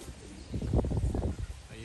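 A racing pigeon on a loft roof gives soft, low cooing in a brief, close burst, with someone talking alongside.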